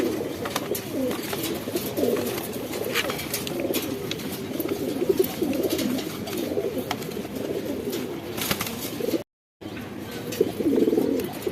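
A pair of Indian Shahjahanpuri pigeons coos continuously nearby, a low rolling murmur that runs throughout with one brief dropout near the end.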